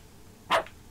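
A dog in a video game lets out a single short, clear bark against a quiet background, with no speech.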